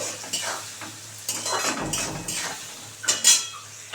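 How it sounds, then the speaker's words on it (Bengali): Potatoes fry with turmeric in a pan, a soft sizzle running beneath repeated scraping and clinking as a utensil stirs against the metal, with a sharper clatter near the end. "এবার একটু ভালো করে ভেজে ভেজে একটু ভাজা ভাজা করে নেব"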